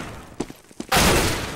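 A flashbang grenade goes off in the game CS:GO: a few soft thuds, then a sudden loud, broadband bang that stays as a harsh, sustained roar to the end.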